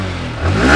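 A 2023 Yamaha R15M motorcycle engine revs briefly, a short close burst that swells in loudness near the end.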